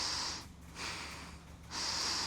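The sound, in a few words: deep belly breathing in through the nose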